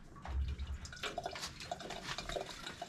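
Water flows and splashes after a hot water heater drain valve is reopened during flushing, a faint steady rush with small drips and gurgles throughout.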